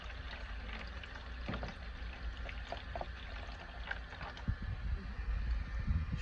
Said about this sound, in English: I'm gonna put some water in 2 of the slots